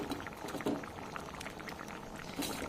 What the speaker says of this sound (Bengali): তরকারিটা ভালো মতন ফুটে গিয়েছে